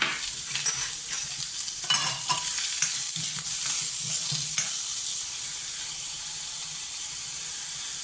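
Curry leaves and grated coconut fry and get stirred in a hot pan, a close, continuous sizzle and hiss with scraping stirs that eases to a softer frying hiss in the last few seconds.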